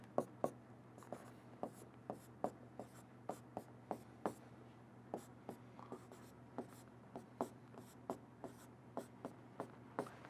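Writing out parabola math by hand, heard as a steady run of short, sharp taps and strokes, close and quiet, repeating in an uneven rhythm with no talking over it.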